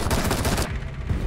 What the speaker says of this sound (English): I just shot him in the head.